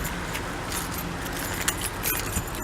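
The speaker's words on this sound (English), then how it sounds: "by unlocking the car." Keys jangling while unlocking a 2008 Infiniti M, a continuous close metallic rattle with a few brighter clinks, set against a steady low background hum.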